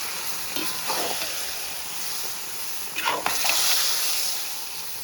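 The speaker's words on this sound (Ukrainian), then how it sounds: "Далі додаємо болгарський перець, перемішуємо." A spoon stirs bell pepper into bograch simmering in a cauldron over a campfire, giving a steady sizzling hiss with a few soft scraping strokes near the middle and end.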